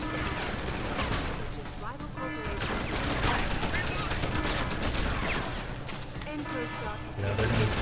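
Rapid, sustained gunfire from a Mass Effect firefight keeps up dense bursts and impacts for the whole stretch, loud and close, with someone talking over the shooting.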